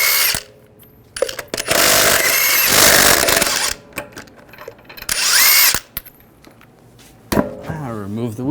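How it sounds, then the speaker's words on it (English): An impact power tool with a 22mm socket spins off lug nuts on a Ram 1500 in loud close bursts, whirring and rattling, with short pauses between each nut. "Using a 22mm socket, we're going to take the lug nuts off."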